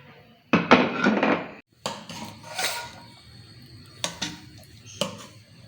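Beef nihari being ladled and plated in a home kitchen, with metal clinks and scrapes of a ladle against pot and plate coming in a few sharp bursts, close and moderately loud, with quiet pauses between.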